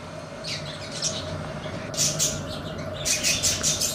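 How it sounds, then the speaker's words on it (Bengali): Pet budgies chirp in short, bright bursts while eating soft food, several birds twittering close by over a low steady background hum. "এই দেখো আমার পাখিরা কত আনন্দ করে খাচ্ছে।"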